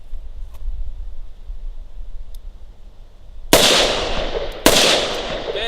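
Two sharp, loud gunshots from a Smith & Wesson Model 66 Combat Magnum revolver firing .38 loads, about a second apart, each with a short ringing decay over faint background noise.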